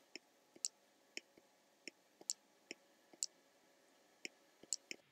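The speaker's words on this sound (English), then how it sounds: "I'm going to click on this and drag 5 more over." Sharp, light mouse clicks recorded close to the mic while blocks are dragged in App Inventor, about a dozen crisp taps spaced irregularly over quiet background.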